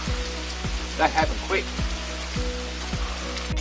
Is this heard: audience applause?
no